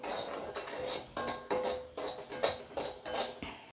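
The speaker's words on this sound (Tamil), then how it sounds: "இப்போ உப்புலாம் பொரிய ஆரம்பிச்சிட்டு நல்லா ஹீட் ஆகிட்டு" Dry salt heating in a pan, ready for roasting black chana, is scraped and stirred in a run of about seven gritty, rhythmic strokes, close and fairly loud with no voices.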